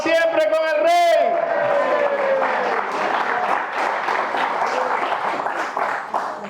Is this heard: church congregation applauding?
yes